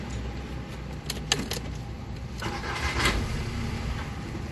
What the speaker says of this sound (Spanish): Voy a mostrar a ustedes que el carro no arranca.